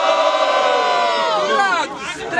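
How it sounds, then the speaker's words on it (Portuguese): A large crowd roars and shouts together at a Brazilian student rap battle, loud and sustained, with voices rising and falling in a dense wall of cheering. "Quem gostou das rimas do Kenashi faz muito barulho."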